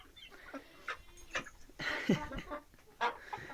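Soft clucking of chickens comes in short, scattered bursts, with a few louder calls among faint rustling.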